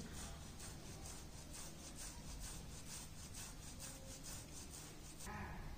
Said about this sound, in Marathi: तर आपण 3 पण बटाट्याचे खिसून घ्यायचे.